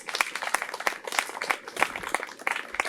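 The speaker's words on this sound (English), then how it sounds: "Round of applause, please." Outdoor crowd applause at a grand opening of a park playground, with scattered rhythmic hand claps continuing steadily throughout at moderate loudness.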